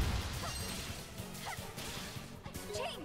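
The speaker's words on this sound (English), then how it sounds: "let's break some blocks." Blocks being smashed with a big hammer in the action RPG Ys VIII: Lacrimosa of Dana, a run of sharp crashing hits, about three distinct impacts spread over a few seconds with game music underneath.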